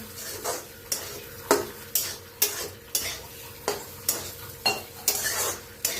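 Pithla, a spiced gram-flour dish with coriander and crushed peanut powder, roasted in a pan while being stirred. A spatula scrapes in a steady rhythm, roughly every half second, over a continuous close sizzle with no talking.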